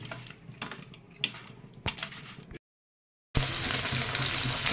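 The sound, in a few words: frying pabda fish in oil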